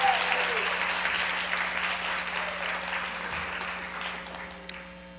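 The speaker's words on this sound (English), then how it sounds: "can we have one more round of applause?" Audience applause at a film contest celebration, a steady broadband wash of clapping that slowly tapers over several seconds, heard in a large room with a faint background tone.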